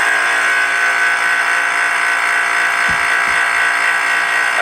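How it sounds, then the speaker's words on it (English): A small drone's propellers whir inside a vacuum chamber at roughly half an atmosphere of reduced pressure, giving a loud, steady, high-pitched electric buzz that holds unbroken throughout, with a couple of faint low thumps near the end. "Okay, drone in a vacuum chamber."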